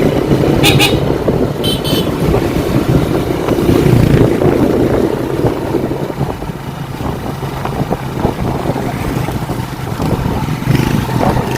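Busy road traffic with cars and motorcycles, a loud mix of close engine drone and passing vehicles, with a few short horn toots near the start.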